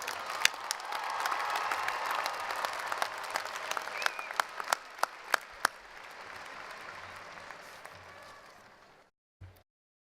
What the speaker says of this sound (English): Let's give our new graduates another round of applause